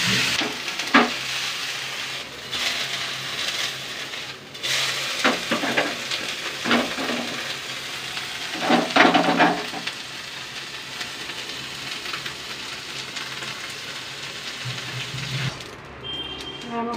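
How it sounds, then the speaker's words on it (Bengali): Morola fish sizzle in hot oil in a pan, a constant close crackling hiss with occasional louder spatters and stirring clinks, continuing steadily through the stretch. "বাকিটাও একইভাবে ভেজে নেব।"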